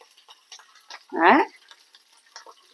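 Curry leaves drop into hot oil for gongura mutton and give one loud, short burst of crackling sizzle. Faint kitchen ticks and clinks come before and after it.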